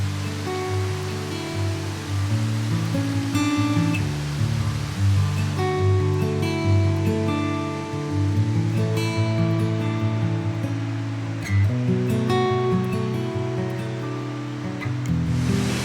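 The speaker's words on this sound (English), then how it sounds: "We have found waterfall number 1." Waterfall on a hiking trail in the Brecon Beacons, a steady, loud rush of falling water filling the scene without pause, with a broad roaring wash and no voices.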